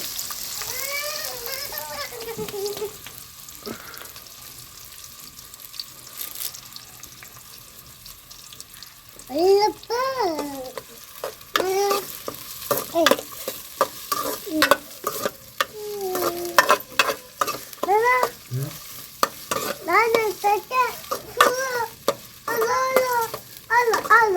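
Onions and curry leaves fry in a pan with cumin for a village-style cabbage curry: a continuous sizzle broken by repeated scraping stirs, with voices talking on and off over it.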